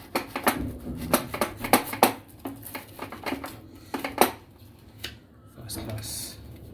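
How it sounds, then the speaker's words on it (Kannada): A knife slicing through a cheese bread sandwich on a board, with a quick run of crisp cutting and tapping strokes, then a pause and a few more cuts, close-up with a voice talking over parts of it. "ಇದನ್ನು ನಾವೀಗ ಕಟ್ ಮಾಡಬೇಕು."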